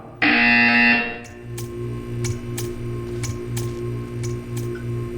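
A loud, steady electronic buzzer tone in the game Portal 2 sounds for about a second, followed by a low repeating hum with faint regular ticking clicks.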